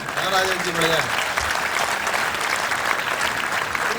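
Audience at a kavi sammelan poetry recital breaks into sustained applause, dense clapping that continues evenly after a voice speaks briefly at the start.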